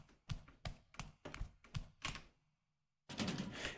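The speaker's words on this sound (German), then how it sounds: "Ich finde, die Schritte klingen auch sehr überzeugend." Barefoot footsteps in the video game The Killing Antidote, six evenly spaced soft thumps in a steady walking rhythm, then a pause before a louder burst of movement.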